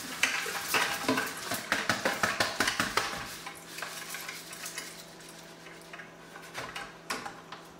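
Stainless steel tumbling media is poured back into a tumbler, giving rapid close metallic clinking and rattling that is dense at first, then thins into scattered clicks.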